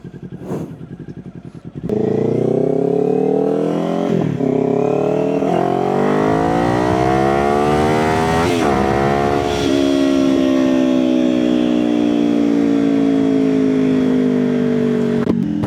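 A 2025 Kawasaki Ninja 500SE motorcycle is ridden on a cruise, its engine droning loud and steady with rising and falling pitch as it accelerates and shifts, after a quieter opening couple of seconds.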